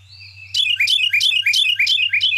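Carolina wren singing a close, loud, rapid series of about six repeated bright chirping phrases in a steady rhythm over a low background hum.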